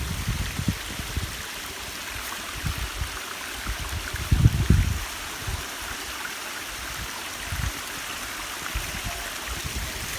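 A waterfall at a hidden outdoor spot pours in a steady, broad rushing wash that stays constant throughout, with a few low thumps and bumps nearby.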